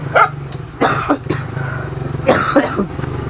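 A dog barks in short, sharp bursts a few times, close by, over a steady low hum of background noise.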